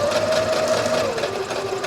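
A sewing machine runs continuously at close range while stitching a patch pocket with a flap, giving a steady, even mechanical whir with a slight drop in pitch partway through.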